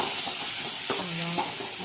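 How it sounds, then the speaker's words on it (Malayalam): A spatula stirs an egg snack frying in a pan amid a steady bright sizzle, with a couple of brief scraping strokes close up and no talk. "ഇളക്കി കൊടുക്കാം."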